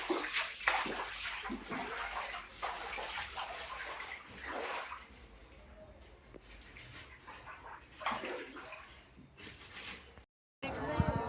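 Flood water from the Kagna river pours into village houses, a steady rushing and splashing wash that swells and fades, with people calling and talking over it.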